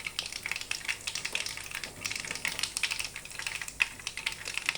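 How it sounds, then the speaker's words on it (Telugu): Pulihora tempering sputters in hot oil: a fast, uneven run of sharp crackles and pops, close and steady throughout with no voices. "అది చిటాపట్ట ఎగురుతుందండి. అది చూడండి, చిటాపట్టని."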